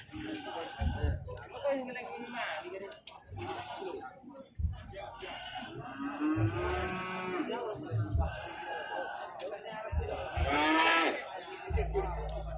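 Boer goats at a livestock market bleat and call several times amid the crowd, with someone talking over the animals throughout.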